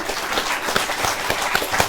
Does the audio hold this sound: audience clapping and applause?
yes